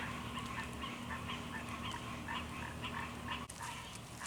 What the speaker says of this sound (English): And you can hear all the frogs and toads. They're really happy about the rain too. They're singing.